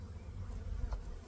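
A mass of honeybees from a package knocked down into a Layens hive, a low steady buzzing hum close by, fairly faint and continuous.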